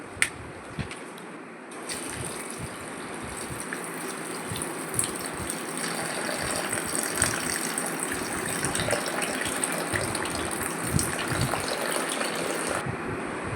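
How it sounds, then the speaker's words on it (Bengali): Sliced raw mango strips being washed and soaked in water, a steady splashing and gushing of water with occasional small clinks, fairly close and continuous, no talking. "জলে ধুয়ে একটু জলে ভিজিয়ে রাখলাম"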